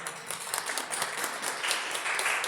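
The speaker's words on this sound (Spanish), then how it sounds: "La recibimos con un fuerte aplauso" An audience at a keynote lecture on violence against women applauds to welcome the speaker, a steady wash of clapping with no talk over it.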